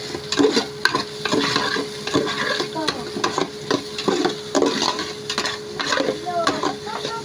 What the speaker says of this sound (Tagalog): pag malambot na ang ating sibuyas, isusunod na natin ang ating bawang